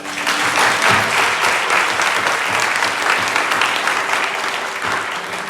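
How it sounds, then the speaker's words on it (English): Audience applause at a temple after a Carnatic vocal recital, loud and steady clapping for several seconds. "We just give her another round of applause."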